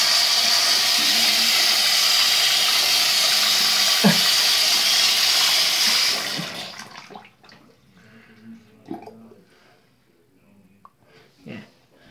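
A tap runs loudly for several seconds during face washing, then cuts off, leaving quiet splashes and small handling sounds.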